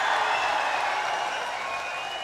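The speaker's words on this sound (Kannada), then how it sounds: "standing ovation," A large crowd gives Gadkari a standing ovation at a public event, with steady, dense applause that holds evenly throughout and fades slightly toward the end.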